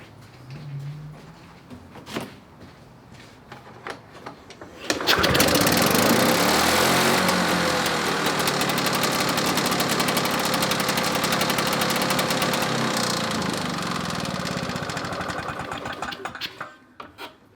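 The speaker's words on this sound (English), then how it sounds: "That should be enough to allow us to start the mower." A two-stroke lawn mower engine fires up after a few quiet handling noises, then runs at a steady, loud, buzzing high idle for over ten seconds before cutting off near the end.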